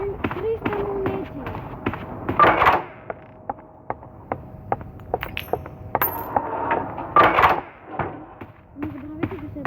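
Coins being picked up in the Roblox game Doors, heard as short bright metallic clinks and jingles scattered among footsteps and clicks, with a couple of louder bursts of collecting sounds.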